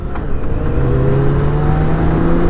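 A tuned BMW K1600 GT six-cylinder motorcycle accelerating, its engine rising from a deep rumble into a smooth, loud, climbing drone heard close, with no talk.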